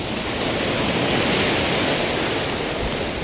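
Big sea rollers surge in at Talisker Bay among large boulders and a sea stack, a loud, continuous roar of breaking surf close by, with dense broadband wash and no voices.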